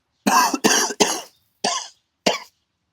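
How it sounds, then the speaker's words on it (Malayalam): Five sharp coughs, the first three in quick succession, then two more separated by pauses, loud and close with no talking. "ചുമക്കുന്നുണ്ട"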